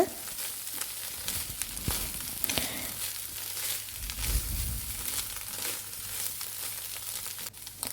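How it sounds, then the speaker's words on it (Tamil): Broccoli and egg being stirred in a pan over a medium flame: a steady sizzle runs throughout, with irregular scraping and clatter from the stirring and a denser swell in the middle. "ப்ரோக்கோலியும் முட்டையும் நல்லா மிக்ஸ் ஆகிற அளவுக்கு மிக்ஸ் பண்ணி விட்டுக்கோங்க"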